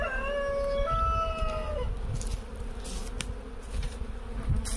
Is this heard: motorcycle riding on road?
no